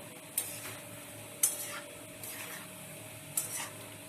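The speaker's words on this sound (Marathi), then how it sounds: "हे बघा आपण शंकरबाई तळतोय मस्त खुसखुशीत झाल्यात चांगल्या फुगल्या आहेत" Shankarpali, crisp puffed dough pieces, frying in hot oil, giving a steady soft sizzle with a few sharp clicks of stirring utensils against the pan, quiet and close with no talk.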